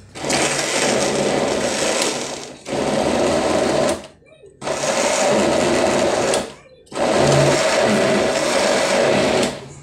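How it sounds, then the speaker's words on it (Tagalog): A blender whirring loudly as it blends boiled chicken with warm chicken broth, running in four long bursts separated by brief pauses. "At gaya nga ng sabi ko, i-blender natin siya."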